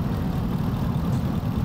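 Steady low rumble of a 2019 Ram 1500 Big Horn 4X4 with its 5.7-liter Hemi V8 idling, an even, continuous drone heard up close with no voices.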